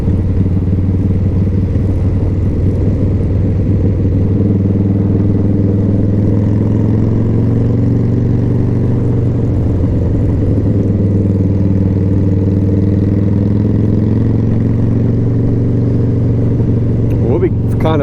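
A Harley-Davidson Fat Boy motorcycle laps Barber Motorsports Park, its engine a loud, steady, close drone mixed with wind rush, holding an even pitch throughout.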